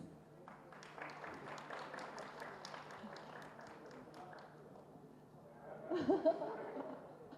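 An audience at a film press meet claps to welcome actor Abhay Puneeth onto the stage: scattered, moderately loud applause that fades out, followed by a swell of crowd voices and chatter.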